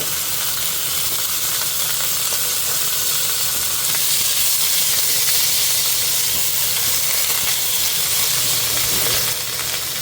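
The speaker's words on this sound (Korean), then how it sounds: "여기 식용유에 고기 먼저 볶을게요" Meat frying in cooking oil for jjajangmyeon, a steady loud sizzle and hiss running throughout with no talk.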